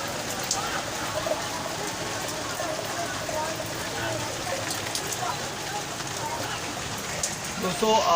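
Heavy rain falls steadily throughout, a dense hiss of drops pattering on surfaces, with no voices.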